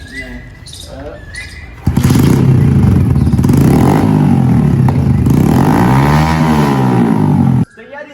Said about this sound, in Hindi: तो यार अभी मैं आपको इस बाइक की आवाज़ चेक कराता हूँ।